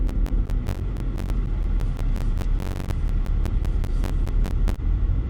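A 2020 Volkswagen Polo 1.0 TSI three-cylinder engine drones while driving at low RPM, a muted steady rumble with a deep hum and rapid clicking ticks running across the whole stretch.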